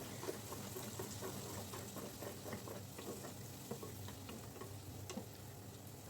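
Tomatoes sautéing in oil with spice powders for curry leaf thokku, a soft continuous sizzle with light ticking stir sounds, fairly faint and steady, no voices.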